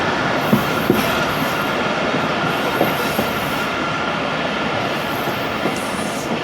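The 16 Down Karachi Express passenger train rolls past on the Multan to Lahore line near Okara, a loud, steady rumble of wheels and carriages with faint clickety-clack and occasional squeals throughout.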